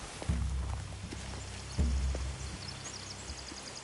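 Horse hooves clop on the ground in a video game, Telltale's The Walking Dead, with two heavier thuds standing out against a quiet background.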